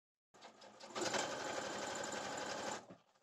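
A sewing machine topstitches a jeans back pocket and begins with a backstitch, giving a brief mechanical whir that speeds into a steady rapid hum for about two seconds, then stops.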